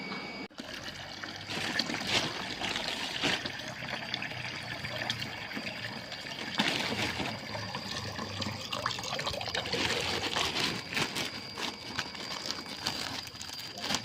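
Rice mushrooms being washed under running water in a home kitchen, a steady trickling and splashing stream that continues throughout, close by and with no talking.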